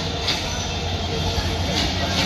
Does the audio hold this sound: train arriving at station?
yes